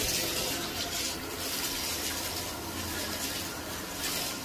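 Hot water pours steadily from a bathroom tap, a continuous broadband splashing rush held at an even, fairly close level throughout.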